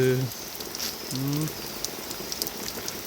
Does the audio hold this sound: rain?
yes